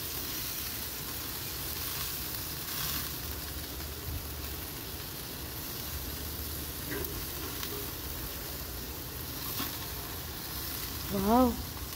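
Chicken sizzles on a barbecue grill as a steady crackling hiss under faint background noise, with a brief rising tonal sound near the end; no clear talk.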